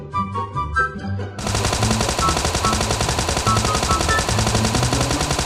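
A Thompson submachine gun fires inside a video game, a loud, continuous rapid burst of automatic gunfire that begins abruptly after a brief quieter stretch and rattles on without pause.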